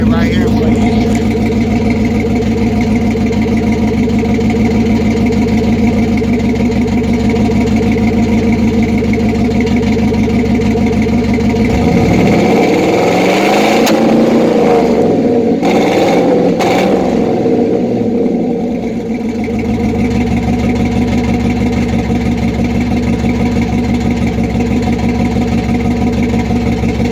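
A 2008 Chevy LS V8 swapped into an OBS truck with side-exit dual exhaust idles steadily with a low exhaust rumble, swelling briefly into a louder rev near the middle before settling back to idle.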